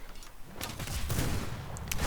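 Several pistol shots ring out in a player-versus-player duel in the vampire survival game V Rising, loud overlapping gunfire bursts stacked over a steady rumbling game backdrop.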